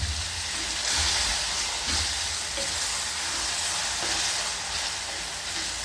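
Tomato paste sautéing in a pan, a steady close sizzle and hiss of frying, constant and fairly loud with faint stirring, no voices.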